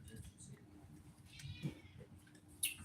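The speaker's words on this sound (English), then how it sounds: "What are they meowing for?" Several house cats meow in a home at feeding time, one short meow mid-clip and a sharper, higher cry near the end, both faint over low background rumble and murmuring voices.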